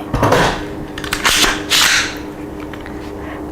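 A Colt M4A1-pattern rifle, an LE6920HBPW, has its magazine dropped at a shooting range, giving sharp metallic clacks and a thud in a few close bursts over about two seconds, then quieter background.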